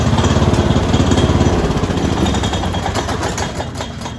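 Cub Cadet lawn mower rigged as a mud mower, its engine running loud and close with a steady rapid chugging rumble that eases slightly toward the end.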